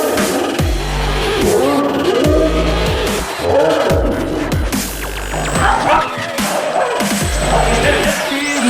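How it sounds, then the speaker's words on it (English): Boston Terriers bark repeatedly at close range at a 3D-printed RC hovercraft, whose steady engine-like whir runs loudly underneath throughout. "I expect a lot of barking."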